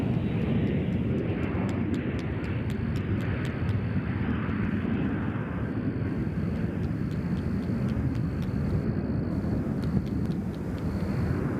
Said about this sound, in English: Air Canada headed out here in a CRJ.